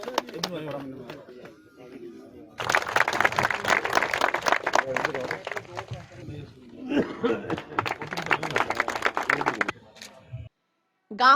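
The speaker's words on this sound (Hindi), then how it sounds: "तालियां इनके लिए।" Applause at a village honouring ceremony, a crowd clapping loudly for several seconds in two bursts, mixed with someone speaking before and between them.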